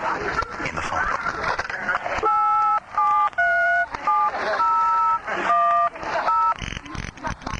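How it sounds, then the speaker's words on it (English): A series of telephone touch-tone beeps as someone dials a number from the phone book, the paired tones coming in quick irregular bursts over a steady background hum and low voices. "They'll just dial any number in the phone book"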